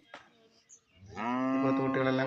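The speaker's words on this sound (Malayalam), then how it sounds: "ചെറിയ പോത്തുംകുട്ടികളെ കൊണ്ട് വലിയ പോത്ത് മീറ്റാവശ്യത്തിനുള്ള കേടുമാറിയ പോത്തുംകുട്ടികളൊക്കെ ഇവിടെ നിൽപ്പുണ്ട്" At a busy buffalo and cattle market, after a few scattered background noises, one of the buffalo calves or cattle lets out a single loud, drawn-out moo nearby.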